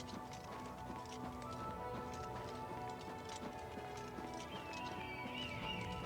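Horse hooves clip-clop steadily in the game Oblivion Remastered, a close, even trot in a snowy outdoor scene near town gates, with an occasional whinny and layered ambient game music underneath.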